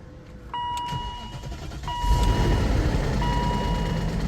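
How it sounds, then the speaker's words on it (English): A 2002 BMW X5 4.6is with the M62 V8 starting up: repeated electronic chimes from the dash, then the engine cranks and catches into a rough, rattly rumble, heard close up. "So you hear that rattle, and then it goes away."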